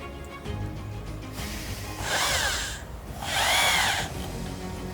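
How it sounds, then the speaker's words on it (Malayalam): A power drill drives screws during interior fitting work in a factory, with two short whirring bursts that rise and fall in pitch, heard up close over steady background noise. "ഡ്രില്ല് എടുത്തിട്ട് നമ്മൾ എന്നിട്ട് സ്ക്രൂ ചെയ്യുകയാണ്, ഫിക്സ് ചെയ്ത്."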